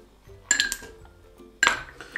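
Ice cubes dropped into a glass for a vodka Bloody Mary: two separate bursts of clinking and rattling, close and fairly loud, in an otherwise quiet kitchen.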